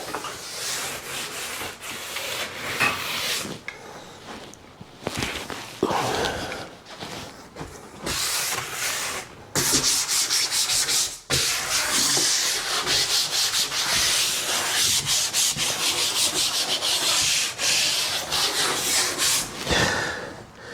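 Interior wood trim is sanded by hand before painting, with close, raspy scraping strokes that come in uneven bursts and pauses before settling into steady continuous rubbing.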